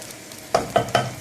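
Food frying in a pot is stirred with three quick scraping strokes of a spoon, each a short sharp clatter over a soft background sizzle.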